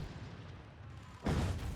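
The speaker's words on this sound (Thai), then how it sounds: "ตอนนี้สกิลที่3ของเราก็บดล็อกแล้ว เป็นสกิลระเบิดจ่ายถึงหมื่นหกเลย ก็ลองใช้ดูหน่อยแล้วกัน" A single explosive blast from a skill attack in a space alien video game bursts out near the end, loud and booming after a stretch of low ambient game noise.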